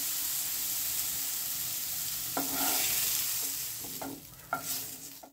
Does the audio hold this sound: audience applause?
no